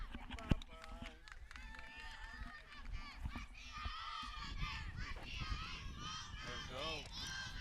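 At a girls varsity softball game, a chicken-like squawk rings out as repeated honking, clucking calls over a crowded background of voices and chatter, with people talking throughout.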